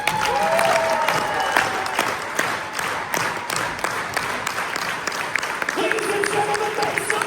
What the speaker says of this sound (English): a power clap for my man Brad